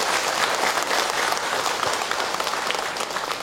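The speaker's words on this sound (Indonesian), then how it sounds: "Tepuk tangan buat ibu-ibu semua." A religious lecture audience claps for the women present, a thick, continuous wash of applause that stays loud and even throughout, with no speech.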